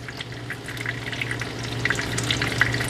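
Green tomato slices frying in a pan in a simple home kitchen, giving a steady, close sizzle with scattered sharp crackles and pops and no voices.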